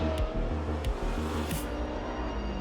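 A race car engine in an AI racing video game drones loudly and continuously, with a few quick gear shifts and brief bursts, heard alone without talk.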